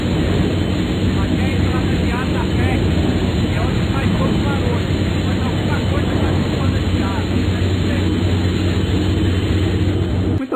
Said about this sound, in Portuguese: Com certeza você já ouviu uma PAC de ar-condicionado funcionando.